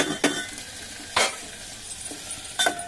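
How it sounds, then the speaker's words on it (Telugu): Chopped tomatoes drop into a pan of frying onions and curry leaves for upma, giving a steady sizzle broken by three sharp scraping stirs. "ఇప్పుడు మనం కట్ చేసి ఉంచుకున్న ఈ టమాటా వేసేద్దాం."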